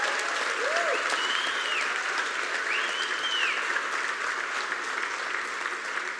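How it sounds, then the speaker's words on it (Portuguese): Sustained audience applause at a gathering honoring women, a dense steady wash of many hands clapping throughout, with a couple of faint whistles rising above it. "Vamos aplaudir mais uma vez."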